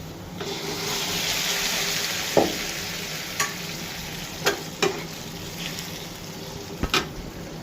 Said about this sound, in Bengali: বাগারের জন্য পেঁয়াজ মিচ ভাজা হয়ে গেছে, এবার ডাল দিয়ে দিব এখানে